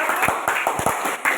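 Classroom applause from a group of students, hands clapping in a brisk, fairly even rhythm of sharp slaps, close and moderately loud.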